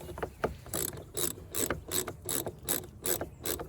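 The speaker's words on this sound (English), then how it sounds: "And tighten that back down." Ratchet tightening a clamp on a CV boot of a 2014-2019 Kia Soul 1.6L, about eight rhythmic clicking strokes, close and fairly loud, alone without talk.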